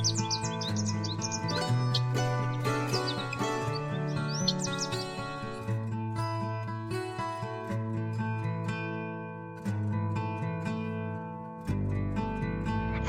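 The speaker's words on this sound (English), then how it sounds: "birds flew out, chirping and singing, and welcomed us to the farm" Birds chirp and tweet at a farm in quick high bursts, mostly near the start, over a steady backdrop of melodic music that carries on throughout.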